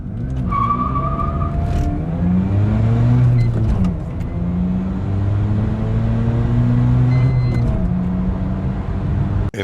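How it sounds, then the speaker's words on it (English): Stock 1993 Mazda RX-7 with a 255-horsepower rotary engine pulling hard from a standstill, a loud steady engine roar climbing through rising pitch sweeps broken by brief gear-change dips, close by with no talking. "my bone stock 1993 Mazda RX-7, 255 horsepower with the rotary engine"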